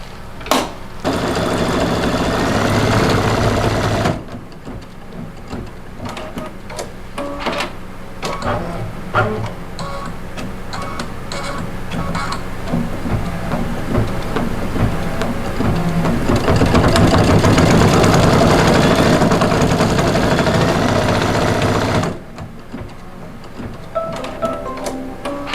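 An embroidery machine stitches an outline and eyes in black thread on a Halloween Boo hoop design, a steady mechanical whirring and rapid needle chatter running nearly continuously, with brief pauses near the start and end.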